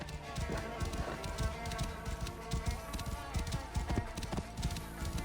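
Horse galloping in Assassin's Creed Origins, with rapid rhythmic hoof clip-clops close up and loud throughout, over a constant background bed of game sound.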